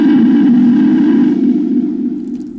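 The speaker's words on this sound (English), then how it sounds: "gonna get that growl going" A single sustained guttural death metal growl, a raspy low vocal held for a couple of seconds and slowly fading.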